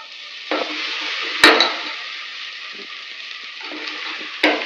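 Green chillies and sliced onions fry and are stirred in a pot for biryani, producing a continuous hissing sizzle broken by two sharp spoon knocks against the vessel.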